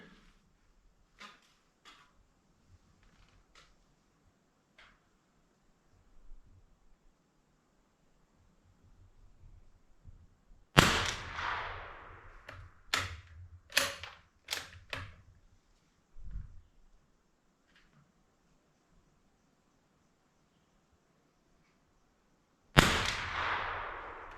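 Marlin Model 25 rifle shots at targets, sharp loud cracks: one big report, then a quick irregular volley of several shots, and a final loud crack after a pause, with faint clicks and handling noise before.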